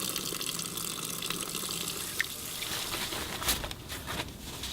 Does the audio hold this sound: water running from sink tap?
yes